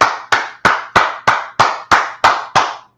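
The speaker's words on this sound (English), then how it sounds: "Give that a hand." Nine loud, sharp hand claps in a slow, even rhythm, close and alone, each with a short ringing tail, at a Harlem gathering after a history class.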